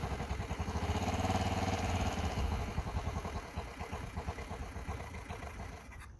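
A Honda Metropolitan scooter sputters and catches after a dose of starting fluid, its small engine running close and fairly loud with a rapid pulsing rhythm that grows choppier before ending.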